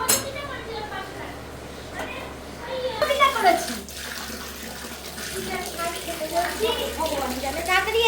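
Water runs steadily from a tap into a tub for a child's bath, a continuous splashing wash with occasional clinks, while people talk over it throughout.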